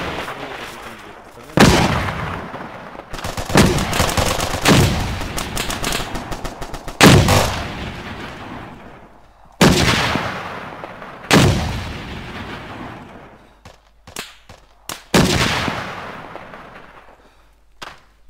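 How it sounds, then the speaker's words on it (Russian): Gunfire in the military game Arma 3: heavy booming shots and bursts of automatic fire crack out at irregular intervals, loud and close, with echoing tails between volleys. "Откуда стрельба была?"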